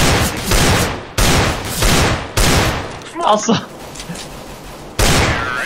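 Gunfire in Counter-Strike on the Dust2 map comes in loud repeated bursts roughly once a second, with a short gap where a player exclaims.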